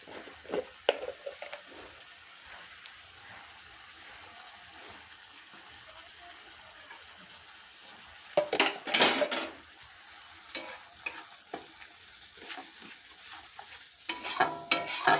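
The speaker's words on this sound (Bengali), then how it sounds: "মশলাটাকে ভালো করে কষিয়ে নেব" Masala of garlic paste and cumin paste being stir-fried in a pan for chicken kosha: near-silence at first, then loud scraping, sizzling bursts of stirring from about the midpoint onward, with no talking.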